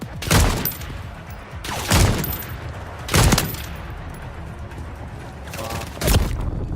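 Bursts of gunfire in Call of Duty: Modern Warfare III, with four loud, broadband volleys spaced roughly a second or more apart over a steady hum of game ambience.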